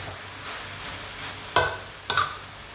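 Stir-frying phak khan chong greens with pork in a pan, a steady low sizzle broken by two sharp scraping clatters of the spatula, close and alone.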